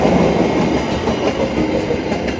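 An Indonesian train passes by rice fields, its steady rumble and rhythmic clatter of wheels on rails loud and continuous throughout, with no voices.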